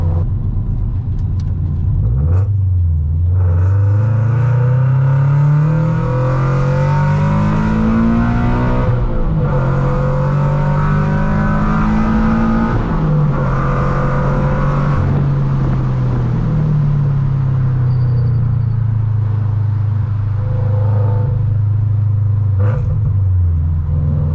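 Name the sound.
tuned car exhaust rumble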